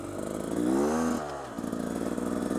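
A Beta Xtrainer motorcycle engine while riding, close and loud, revving up then easing off in a smooth rising and falling drone, with no talk.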